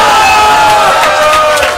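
Spectators at a women's wrestling title fight cheer and shout loudly, a dense roar of crowd voices with whoops and yells rising over one another.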